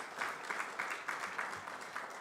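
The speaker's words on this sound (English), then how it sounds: "give another round of applause for Dr. Farouk." Steady applause from a conference panel audience, a dense wash of clapping that continues evenly throughout, no voices.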